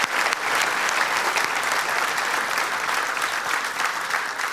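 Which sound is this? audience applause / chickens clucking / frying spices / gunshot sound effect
audience applause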